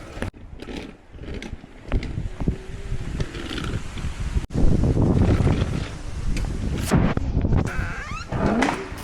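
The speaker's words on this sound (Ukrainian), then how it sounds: "Який вітер потужний." Blustery wind roars and buffets the microphone steadily, with rumbling low noise and occasional clatter.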